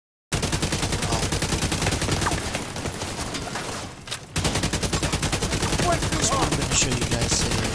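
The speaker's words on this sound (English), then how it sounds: "Also, while I'm doing this, I'm using an assault rifle." Rapid assault rifle fire in the shooter game The Division 2, loud continuous automatic bursts that run almost unbroken, pausing briefly near the middle before resuming at full intensity.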